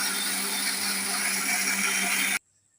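A mixer grinder whirs loudly and steadily as it blends raw mango and mint leaves into a paste, a constant high motor whine that cuts off abruptly near the end into silence.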